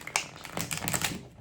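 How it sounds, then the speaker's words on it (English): Tarot cards shuffled by hand up close, a quick run of crisp clicking and riffling snaps lasting about a second, alone without talk. "Just give the cards a little shuffle."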